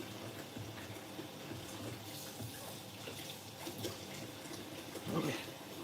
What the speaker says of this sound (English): let me wash my knife off before I slice up my apples